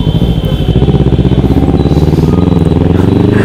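A motorcycle riding along a village road, its engine loud and close with a rapid pulsing putter as the bike rolls on steadily.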